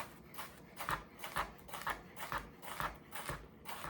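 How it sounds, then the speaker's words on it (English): Knife chopping frozen peppers on a cutting board in a home kitchen, about eight steady, evenly spaced cuts, close and clear with no talking. "I think I need smaller pieces of peppers,"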